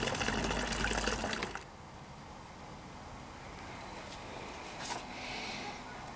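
Wort from a Braumeister pours into a fermenter, a loud rushing gush at first that quickly drops to a quieter steady trickle and splash for the rest.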